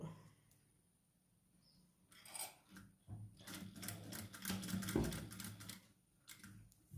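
A sewing machine stitches a pocket onto trousers in quick rattling bursts, starting and stopping several times, close and fairly quiet with no talking.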